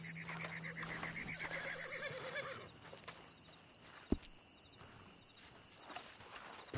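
A horse whinnies loudly near the start in the video game Red Dead Redemption 2, followed by quieter hoof and movement sounds and a sharp knock.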